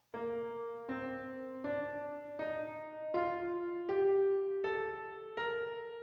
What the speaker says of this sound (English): This is a major scale.